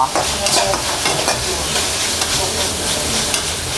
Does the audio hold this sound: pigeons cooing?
no